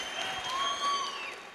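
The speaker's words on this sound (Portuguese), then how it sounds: "Um aplauso forte." At the Campus Party opening event in Brazil, an audience applauds in a dense wash of clapping, with a bright electronic tone sweeping faintly through the room.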